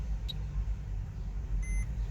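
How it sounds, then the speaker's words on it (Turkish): A short electronic beep from a 2013 Mercedes Vito dashboard after the reset button is held down, heard once near the start and again as a brief tone later, over a low steady interior hum. "Bip diye bir ses gelecek 10 saniye sonra"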